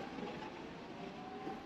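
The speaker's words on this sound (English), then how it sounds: "The terminal link is now departing." The Orlando International Airport terminal link people-mover train moves with a steady, faint, even rumble and rolling hiss that stays constant throughout, with no voices.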